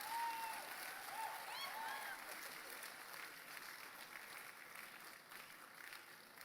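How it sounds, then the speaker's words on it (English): A live audience claps at a comedy or stage show, a steady wash of applause that stays fairly faint and distant, with a few whoops and cheers rising out of it early on. "You can clap now."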